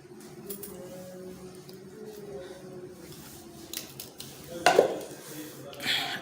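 Quiet metallic clinks and scrapes of utensils against a pot while dum pukht is dished out, with a louder clatter near the end over soft background noise.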